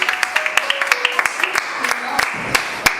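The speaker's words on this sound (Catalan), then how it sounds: "un aplaudiment per aquests alumnes" Sparse, uneven hand claps from a small group applauding students in a school maker project, individual claps standing out sharply over ongoing talk.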